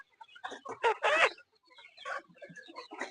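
Sonali chickens clucking on a farm during weighing, a cluster of sharp, close clucks and squawks in quick bursts, louder early then continuing in scattered softer calls.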